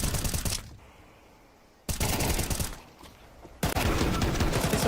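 AK rifle in a Counter-Strike match fires in three loud, rapid sprays separated by short quiet gaps, close and dense bursts of automatic fire.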